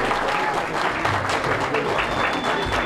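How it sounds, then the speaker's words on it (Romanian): Audience applause for a stand-up comedy act at a pageant show, steady clapping that fills the whole stretch with crowd noise and a faint murmur of voices underneath. "Aplauze pentru Rareș"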